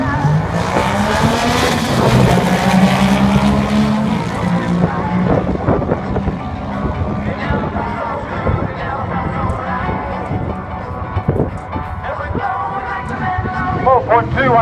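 Drag racing motorcycles at Springmount accelerate down the strip, their engines rising in pitch with loud, strained revving and fluttering wind noise. The engines stay close and prominent throughout.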